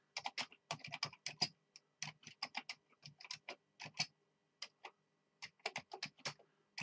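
Keys clatter on a Commodore 64 keyboard being tested, close and crisp, in irregular bursts of quick clicks with short pauses between runs.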